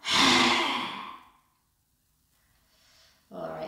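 A loud, breathy exhale during a chakra-balancing breathing exercise with the tongue out, lasting about a second, followed by a pause and the start of another breath.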